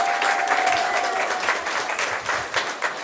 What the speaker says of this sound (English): clap loudly for everyone who walks off this stage